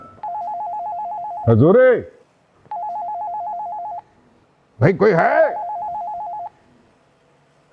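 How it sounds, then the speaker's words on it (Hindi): A telephone ringtone in a drama film scene plays a steady electronic trilling pattern in two long bursts, broken by loud spoken voices, close and clear. "तो भाई ये किसका फोन बज रहा है?"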